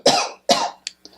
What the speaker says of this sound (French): pouvez-vous tousser, s'il vous plaît?